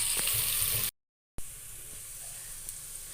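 Onions sizzle and fry in hot ghee with a steady hissing crackle, close and even, broken by a short silent gap before the sizzle resumes.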